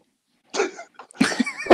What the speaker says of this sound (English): you could just tell as soon as you cough